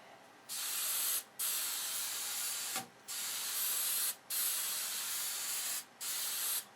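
Several long bursts of hairspray hiss in close succession onto model aircraft wing sheeting, each a few seconds long and separated by brief pauses.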